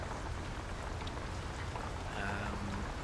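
Medium rain falling in the Silent Hunter 5 submarine game, a steady, dense wash of rain noise heard close and unbroken throughout, with no voices.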